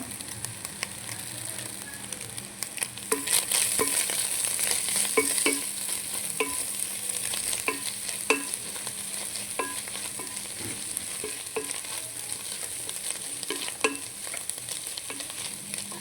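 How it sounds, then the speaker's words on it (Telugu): Fish and carrot fry in a pan with a constant close sizzle, while a utensil stirs and scrapes against the pan in scattered sharp taps. "టూ మినిట్స్ మంచిగా ఫ్రై అవ్వాలన్నమాట"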